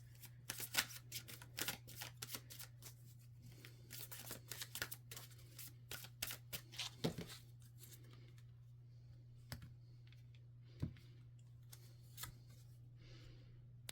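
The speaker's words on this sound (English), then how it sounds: "let's pull some more cards here" Tarot cards are shuffled and pulled during a reading, giving rapid papery riffles and snaps, dense at first and then sparser, close and fairly quiet over a steady low hum.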